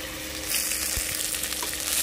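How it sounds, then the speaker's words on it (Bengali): Thick pieces of katla fish fry in hot oil, a dense, bright, continuous crackling sizzle heard up close, with a soft knock partway through and no one talking. "কাতলা মাছ ভাজতে একটু টাইমই লাগে"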